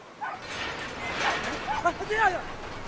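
Dog barking and yipping in the video game Brothers: A Tale of Two Sons, a few short excited barks near the end over game music and ambience.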